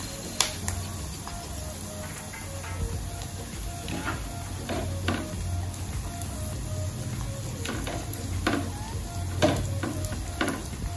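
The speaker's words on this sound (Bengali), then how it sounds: "তেলটা গরম হয়ে গেছে, এবার এর মধ্যে পেঁয়াজটা দিয়ে দিলাম।" Chopped onion sizzles in hot oil in a pan for spicy masala pasta, a steady frying hiss with occasional clicks and scrapes of stirring.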